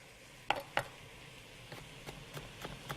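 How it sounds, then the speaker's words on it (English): Rough chopping of fresh garlic with a knife on a cutting board, a few sharp, close taps spaced irregularly and quieter strokes following, with no talking. "But I'm just going to give it a rough chop."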